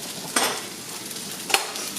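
Meat sauce being stirred in a pan, a soft sizzling bed with two distinct scraping strokes of a utensil against the pan, close and fairly quiet, with no talking.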